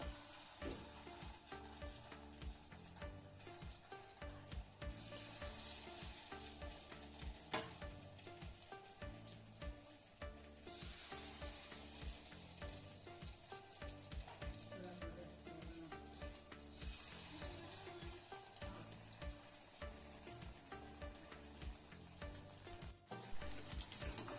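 Golibaje (Mangalore bonda) batter frying in hot oil, a continuous dense sizzle and crackle with stirring scrapes, steady and close throughout, with no talk.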